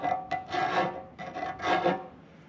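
Abrasive sanding of a planer's rough cast top casting, several close, rhythmic back-and-forth rasping strokes with brief gaps between them and no talk.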